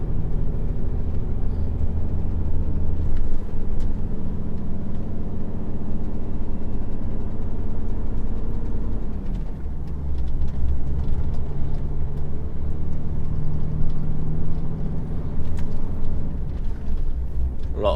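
A truck engine labours steadily in fifth gear up a steep hill in Cornwall, a loud continuous low drone with a brief dip in pitch midway before pulling on again.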